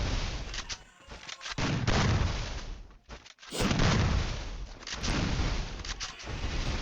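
Gunfire in the Free Fire video game comes in repeated loud bursts of shots and booms with short gaps between volleys, dense and close.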